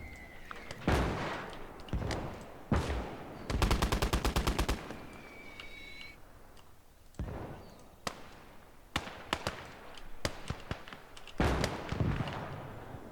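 Rapid bursts of gunfire in the video game Conquest Enhanced during a base defense, with a long automatic volley, scattered single loud shots and a brief whine, sharp and close with no talk.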